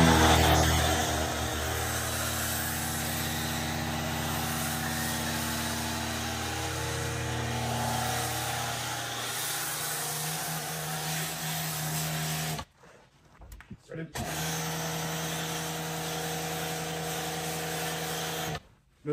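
A foam cannon sprays soap over a Tesla Cybertruck crusted with road grime, salt and bugs after 4,500 miles, giving a steady, loud pressurized hiss with motor hum underneath; it cuts out briefly near the end, then resumes.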